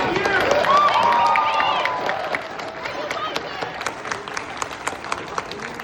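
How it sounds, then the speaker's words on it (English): Applause from conference delegates at a congress session, a dense wash of clapping with some cheering that gradually thins and tapers toward scattered claps, with voices mixed in. "a big round of applause to you all as delegates for being so fantastic"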